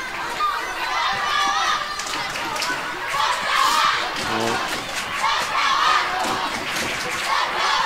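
Crowd of spectators at a women's football cup final, a continuous roar of cheering and shouts from the stands, with a commentator talking over it.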